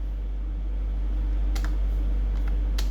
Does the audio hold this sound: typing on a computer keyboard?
yes